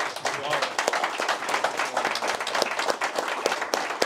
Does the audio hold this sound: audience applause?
yes